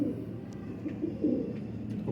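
Batera pigeons, a male among them, coo softly and repeatedly, low murmuring calls rising and falling close by with no talk over them.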